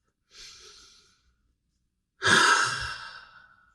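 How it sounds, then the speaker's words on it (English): A person takes a deep breath, with a short soft inhale followed after a pause by a louder, longer sighing exhale, close and alone with no talk. "Take a deep breath."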